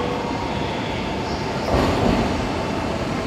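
A Max Toki double-decker Shinkansen train rolls into a platform in Japan with a steady heavy rumble and hiss, swelling slightly midway as cars pass close by; no talking.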